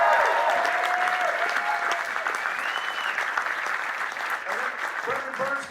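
A comedy club crowd gives comedian Jim Smallman sustained applause, with whoops and cheering voices mixed in over the steady clapping.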